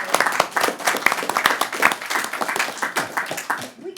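Applause at an OPPD Board of Directors meeting, a room of people clapping steadily in place for several seconds, dense and fairly close, tapering off at the end.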